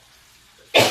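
A single short, harsh cough bursts out close to the microphone after a near-silent pause, loud and abrupt, in a kitchen where a ribeye steak is being cooked.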